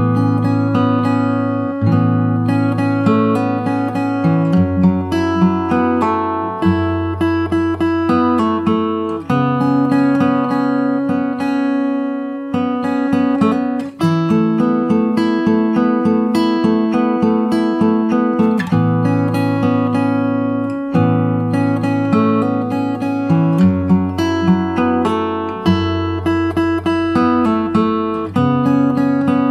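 Fingerstyle acoustic guitar playing the verse of a song, a steady picked melody over plucked bass notes, clear and close for about half a minute with no voice.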